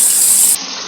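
A household water faucet that turns on by itself runs in a steady, close gush for under a second, with no voices.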